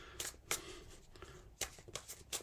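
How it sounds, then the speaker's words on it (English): Tarot cards being shuffled in short bursts of crisp riffling, a few separate flurries with soft pauses between, close and fairly quiet with no talking. "something told me to just shuffle the cards a bit more here"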